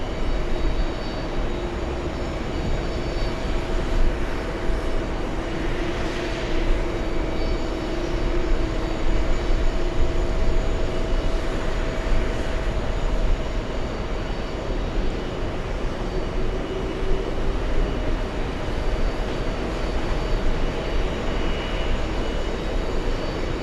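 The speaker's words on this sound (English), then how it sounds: "Final approach." An airliner on final approach at JFK during UN week plane spotting, a steady loud jet roar that drones on without a break, with no talk over it.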